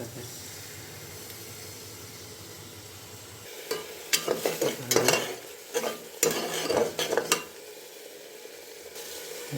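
Cashew paste cooking in a pan: a soft low sizzle at first, then a run of loud, uneven scraping and stirring bursts in the middle, easing back to a quiet simmer.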